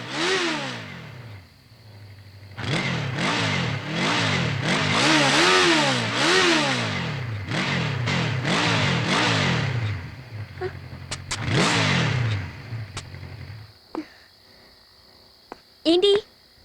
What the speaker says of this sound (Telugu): ఈ బైక్ ఇంకా నడవదా?